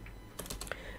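A quick burst of computer keyboard typing while Python code is entered, several fast close key clicks over about half a second against a faint background hum.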